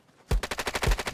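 Rapid automatic gunfire bursts out in a Will To Live Online match, a close, loud rattle of about a dozen shots following a quiet moment.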